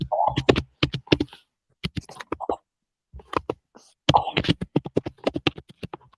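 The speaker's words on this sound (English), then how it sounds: "Oh, Seg is angry typing too" Rapid, irregular keyboard typing clatters up close in quick bursts with short pauses, and a voice briefly cuts in.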